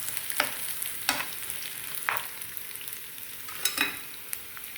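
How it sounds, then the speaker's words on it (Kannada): Fenugreek leaves fry in a little oil, with a steady soft sizzle under a few sharp spoon scrapes against the pan and no voices. "ಸ್ವಲ್ಪ ಎಣ್ಣೆಲಿ ಫ್ರೈ ಮಾಡ್ಕೊಳ್ಳೋಣ"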